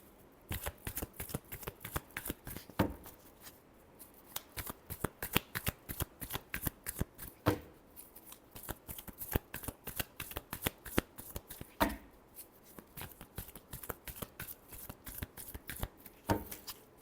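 Tarot cards are shuffled by hand in quick riffling bursts, crisp close flutters repeating over and over with brief pauses between rounds, no voice over them.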